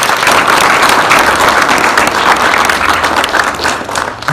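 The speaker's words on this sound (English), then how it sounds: "I would ask you to applaud, if you can, just loud applaud on the name of all these soldiers" Sustained audience applause at a Sikh community exhibition in Calgary honouring soldiers of the World Wars, a dense, steady clapping from a crowd that holds loud throughout and tapers slightly near the end.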